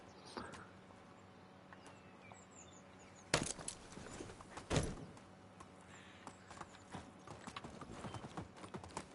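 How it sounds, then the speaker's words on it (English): Horse hooves clop on the ground during riding in the Medieval Dynasty video game, a faint, quiet run of hoofbeats broken by a couple of sharper knocking thuds partway through. "I'm going to jump on my horse"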